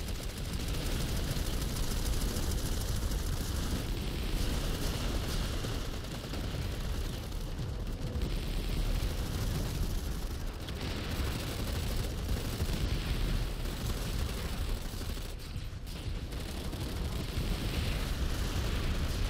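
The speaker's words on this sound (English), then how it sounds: "Never ever stop shooting. Don't stop shooting till they're dead." Continuous Planetside 2 gunfire forms a steady, dense clatter of shots and explosions throughout, busy and unbroken, with no clear talk.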